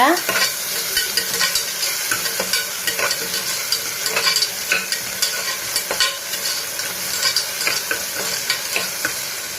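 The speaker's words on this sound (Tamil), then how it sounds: "கொஞ்சம் இஞ்சி பூண்டு பேஸ்ட் போட்டுக்கோங்க. அதையும் நல்லா வதக்கி விடுங்க." Ginger garlic paste sautéed with onions in a pan, a steady loud sizzle with repeated spoon scrapes and taps in an uneven rhythm throughout.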